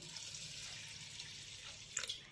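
Water poured onto washed rice in a bowl, a soft continuous trickle and splash with a few brighter drips near the end, fairly quiet and close.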